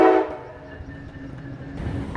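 Passenger train ride heading toward New York, with a steady low rumble of rolling wheels and carriage noise close by, a louder burst at the start and the rumble swelling again near the end; no talk.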